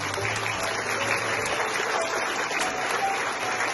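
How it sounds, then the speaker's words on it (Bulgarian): A large indoor audience at a charity gathering applauds the organizers, dense even clapping filling the room steadily for several seconds, with no talking over it. "искам да чуя малко аплодисменти за тях"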